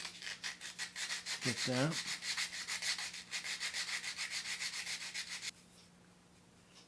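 Sandpaper rubs back and forth over a small wooden napkin ring in quick, even strokes. The scratching is close and fairly soft, a brief word is spoken partway through, and the sound stops near the end.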